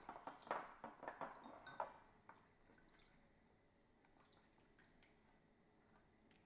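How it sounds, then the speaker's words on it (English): Soba noodle salad sauce being stirred in a bowl: a quick run of light clinks and taps against the bowl in the first two seconds, then quiet, faint kitchen background with no talking. "Stir it up."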